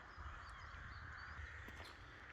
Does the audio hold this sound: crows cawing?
yes